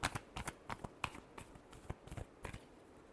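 Tarot cards are shuffled close up, giving quick, soft papery riffles and taps in an irregular rhythm, quiet and alone.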